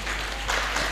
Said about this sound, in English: Give applause to our